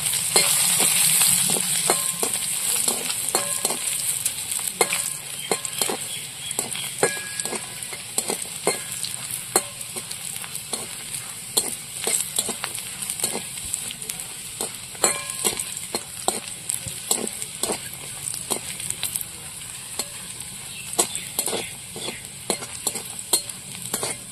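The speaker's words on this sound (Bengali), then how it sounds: "এবার রসুন গুলো ভেজে নেব।" Garlic and whole dried chillies fry in a pan of oil left from frying fish, giving a continuous close sizzle broken by frequent sharp scraping and clicking stirring strokes.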